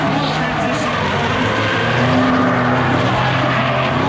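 A drift car at Driftcon roars loudly through a transition, its engine screaming and tires skidding without a break, close and dense, with talk mixed in.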